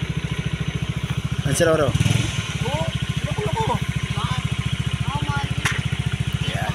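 A motorcycle engine idles close by with a steady, rapid pulsing throb throughout, while people talk over it and a brief louder rev rises near the middle.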